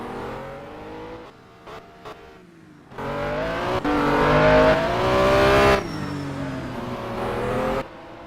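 Race cars in a Continental Championship race accelerating down the main straight, loud rising engine whines that surge, layer and then cut off, after quieter engine noise at the start.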